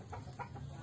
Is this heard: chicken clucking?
yes